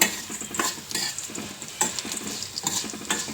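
Ingredients for brinjal vangibath are stirred and roasted in a pan over a medium flame until reddish, with a steady close sizzle and rhythmic spatula scrapes repeating every half second or so.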